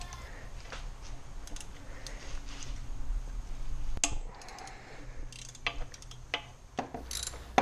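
A hand ratchet works 8mm intercooler bracket bolts on a Mini Cooper S R53: quiet repeated clicking strokes, with a few sharper metallic clicks over faint background noise.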